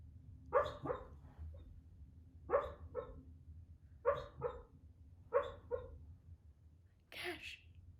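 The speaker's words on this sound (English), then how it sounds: "My puppy's having a bad dream. He was just like running in his sleep." A sleeping puppy makes short muffled yips and whimpering huffs during a bad dream, four quiet bursts spaced about every one and a half seconds, with a sharper sneeze-like puff at the end over a low background hum.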